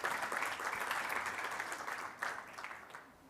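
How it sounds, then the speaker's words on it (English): A conference audience applauds the regulator with a steady, dense roar of many hands clapping. It is heard from a distance and stays fairly even throughout, with no speech over it. "A round of applause to our regulator."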